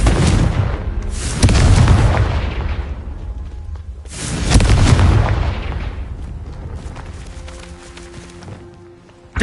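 Blasts of the Confringo fire spell in the game Hogwarts Legacy: two loud, heavy booming explosions a few seconds apart, each rolling out into a long rumbling decay, with softer clatter between them.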